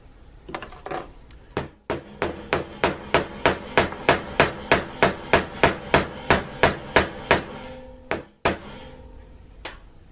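A Tandy leather craft slot punch is struck by a hammer in about twenty sharp, evenly spaced blows on a workbench, preceded by a few scattered taps and followed by two final strikes after a brief pause.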